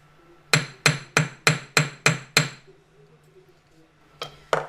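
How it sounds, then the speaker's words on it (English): A domed metal hammer strikes metal, texturing a leaf necklace piece, in seven sharp, evenly spaced blows, pauses briefly, then resumes with two more ringing hits, close and loud. "Also going to use a domed hammer just to create a few more divots in there."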